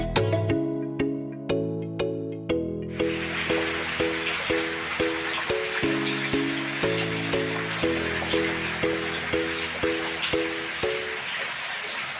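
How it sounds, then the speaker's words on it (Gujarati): Steady rain falling, heard as a broad even hiss that starts a few seconds in, running beneath louder rhythmic tonal music that plays throughout. "વરસાદ મસ્ત મજાનો ચાલુ થઈ ગયો છે"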